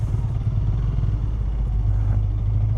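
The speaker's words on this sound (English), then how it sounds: "We are out with a number of other riders taking this bike through the city streets." Steady, close engine drone of a Honda Rebel 300 E-Clutch motorcycle riding through city streets in a group ride, a continuous low rumble with no talk over it.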